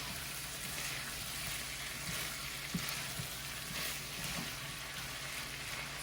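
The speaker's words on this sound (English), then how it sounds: "So just saute the liver" Liver sautéing in a pan with onions, a steady dense sizzle and frying crackle close up, with a few faint stirring clacks and no talk.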